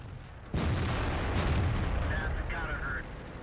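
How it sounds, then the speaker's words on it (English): Artillery shell impact in the tank battle game World of Tanks, a single sudden heavy boom followed by a sustained rumbling roar that slowly fades, close and loud. "Artillery is coming down on us, so I'm going to keep moving."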